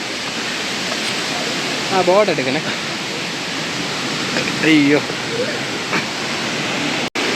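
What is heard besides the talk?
small waterfall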